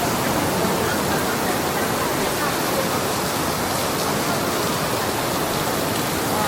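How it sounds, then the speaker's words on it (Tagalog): Steady, dense downpour roaring evenly throughout, a thick wash of rain with no breaks and no voices standing out. "Malakas ang ulan, guys."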